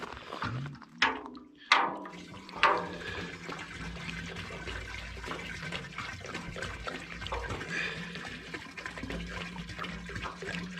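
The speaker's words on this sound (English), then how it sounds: "I'm going to add acetone next." Acetone is poured into automatic transmission fluid in a container to mix homemade penetrating oil: a few sharp splashes at the start, then a continuous close trickling, gurgling pour.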